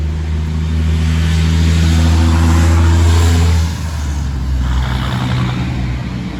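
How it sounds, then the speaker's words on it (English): Trucks drive by close to a backyard chicken flock with a loud, droning engine hum. The hum swells, then drops away partway through, and a second, quieter pass follows. "there's a lot of trucks today"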